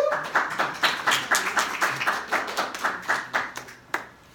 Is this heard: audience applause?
yes